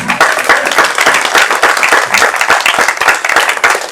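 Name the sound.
congregation applauding in church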